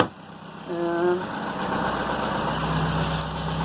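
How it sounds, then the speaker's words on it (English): A Perkins 4.108 diesel on a Vagabond 39 sailboat idles steadily, a close, even low drone throughout, with a brief tonal knock near the start as the engine hatch shuts. "Okay, I'm going to close this hatch now."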